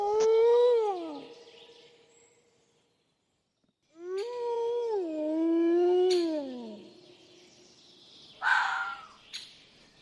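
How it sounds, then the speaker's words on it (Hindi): A wolf howls twice in long, wavering, mournful tones, the second howl longer and sustained, followed by a short, sharp higher call and faint trailing sounds. "वुल्फ, वुल्फ को हिंदी में भेड़िया कहते हैं।"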